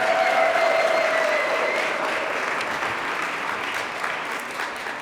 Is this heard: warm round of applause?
yes